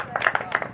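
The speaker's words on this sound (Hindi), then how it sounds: "ताली बजाओ सारे आदमी" Scattered claps from a small audience at a street magic show, a few close hand claps in a short irregular burst over a noisy background.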